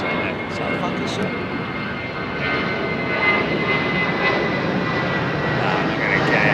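Aircraft at Heathrow Airport, a steady broad engine roar from planes taxiing or departing, continuous and fairly loud, with people talking nearby over it.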